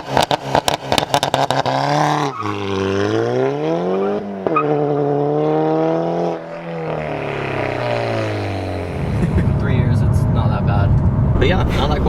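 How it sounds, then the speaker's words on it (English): Modified VW GTI MK6 on the move, its turbo whooshing and rising and falling in pitch through loud, near engine note, with a brief sharp burst at the start and louder rushing noise near the end; speech also present. "It's all turbo noises."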